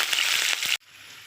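Green chilies fry in hot oil with a bright, dense crackling sizzle that cuts off abruptly partway through, leaving faint background hiss.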